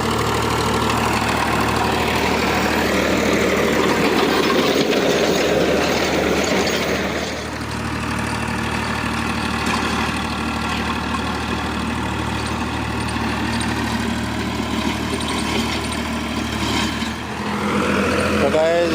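A steady tractor engine drone runs throughout as it works a rotavator in a field, loud and close, with a rumbling low end and faint voices mixed in.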